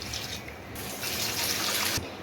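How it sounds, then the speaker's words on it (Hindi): Tap water splashes steadily into a pot of boneless mutton seasoned with garlic-ginger paste and salt, a close, even rush of filling water that briefly gets louder midway. "2 गिलास पानी डाल दें गोश्त को गलाने के लिए।"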